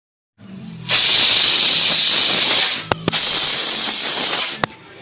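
A pressure cooker boiling soaked peas and chickpeas blasts a loud, sustained whistle of escaping steam, briefly broken by a sharp gap and clicks before hissing again, then stopping.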